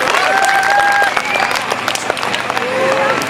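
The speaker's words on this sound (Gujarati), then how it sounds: "તાળીઓથી થોડુંક પ્રોત્સાહન આપો." Audience applause rings out at a school annual function, a dense, steady wash of clapping from a large crowd with a few whistles and cheers mixed in.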